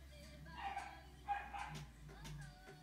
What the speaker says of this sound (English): You can hear my dogs in the background because I didn't have the heart to put them to bed.